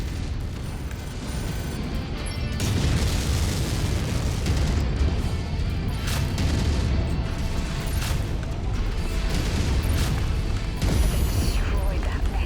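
A mech's reactor blowing up during city combat in MechWarrior 5: Mercenaries, a loud sustained rumble of heavy booms and crashing debris that stays dense and continuous throughout, with game sounds layered on top.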